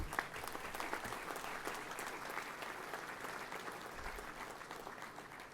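At a chamber of commerce gathering, an audience claps for itself in a steady, fairly quiet round of applause that continues evenly throughout, heard from some distance.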